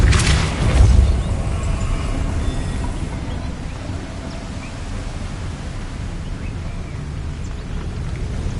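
Depulso spell cast in the Hogwarts Legacy video game, heard as a heavy booming whoosh at the start that fades into a sustained rumbling, noisy wash with no speech.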